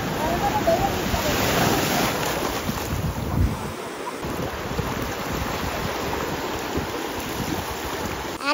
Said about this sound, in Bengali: বাবা বড় বড় ঢেউ দিচ্ছে